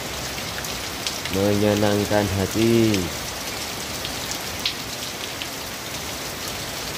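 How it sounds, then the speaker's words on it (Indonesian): Steady night rain falls on a surface outdoors, a continuous dense patter throughout, with someone speaking briefly in the middle over it. "Menikmati suasana hujan di malam hari"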